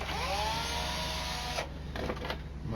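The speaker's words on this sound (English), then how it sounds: "My old Black & Decker still work." An old Black & Decker power drill runs in short bursts while assembling a wine and glasses shelf rack, a near, whirring motor whine that rises and falls, then stops and restarts briefly.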